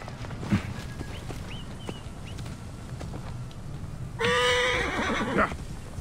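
Horse in the video game Assassin's Creed Origins, soft hoof clip-clops and scattered sounds under a low ambient bed, then a loud, close, drawn-out whinny with trembling pitch near the end.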